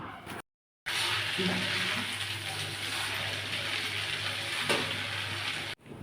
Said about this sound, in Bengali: এখন পেঁয়াজ ভাজা হয়ে গেছে তাতে সিদ্ধ করা নুডলস ও পাস্তা কড়াইতে দিয়ে পেঁয়াজের সাথে ভালো করে মিশিয়ে নেব